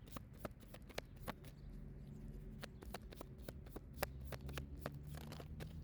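Tarot cards are shuffled close up in a quiet room, a rapid run of crisp card flicks and riffles with a few sharper snaps, soft and steady throughout.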